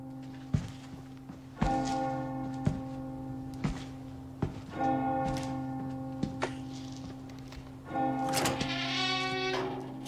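A church bell in the video game Resident Evil 4 tolls in three long, resonant strikes a few seconds apart, each ringing on and overlapping, with soft thuds and footsteps beneath and no talk.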